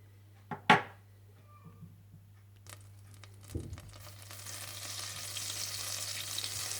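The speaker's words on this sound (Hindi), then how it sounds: "सबसे पहले आप मक्खन डालकर इसे आप गर्म कर लें।" Butter heats in a pan for zucchini soup, starting with a couple of sharp clinks and rustles, then building into a steady, soft sizzle that grows and fills the last few seconds.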